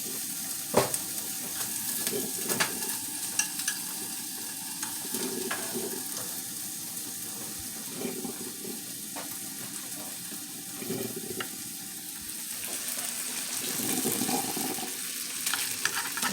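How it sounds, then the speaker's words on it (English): Breakfast sausage fries in butter in a skillet with a constant crackling sizzle, broken by occasional sharp pops and clinks of a utensil, close up and without speech. "so my sausage is cooking. I'm gonna add a little butter to here"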